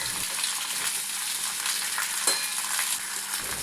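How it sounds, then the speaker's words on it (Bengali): Mixed vegetables for a Bengali panchabyanjan sizzle and fry in a pan while being stirred. A steady, hissing crackle is broken by soft scraping strokes, with no voices. "খুব ভালোভাবে নাড়াচাড়া করে নিয়ে আমি এই রান্নাটাকে সাঁতলে নেব।"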